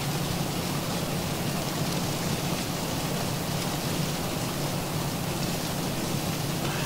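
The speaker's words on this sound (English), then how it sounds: "You can hear the aircraft getting pelted with some rain now." Steady rain pelting the outside of a Boeing 737 airliner in the X-Plane flight simulator, a dense continuous hiss of drops with no pauses and no voices.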